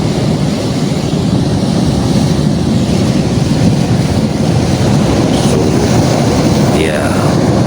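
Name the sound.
crashing ocean waves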